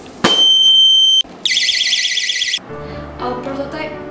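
Electronic alarm on a prototype smart shopping cart: a short sharp beep, then a steady high tone, then a warbling siren-like tone lasting about a second, followed by quieter clatter.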